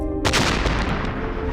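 A cannon fires a shell with a single sharp, loud blast that cuts in abruptly after a faint tone, then rolls into a rumbling decay that fades over the next second.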